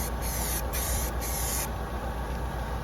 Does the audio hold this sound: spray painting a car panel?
yes